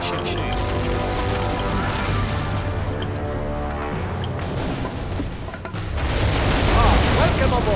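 Naval battle cannons in Port Royale 3 fire as deep booms mixed into game music and ambience, swelling louder near the end, while a person talks over them.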